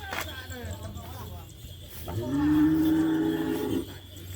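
A cow at a Madurese kerapan sapi bull-racing practice field lets out a long, loud low moo midway through, rising over outdoor background noise and murmuring voices.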